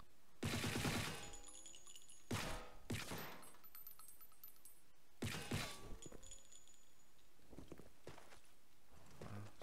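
Video game gunfire in bursts: a rapid volley of shots near the start, two sharp shorter bursts around the middle, and another volley later, separated by quiet background stretches.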